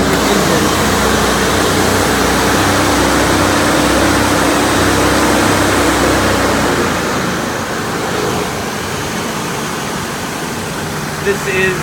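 A 1987 Mercury Cougar 20th Anniversary Edition with its factory, rebuilt engine idling, a loud steady broadband rumble and rush of air heard close up, easing slightly toward the end.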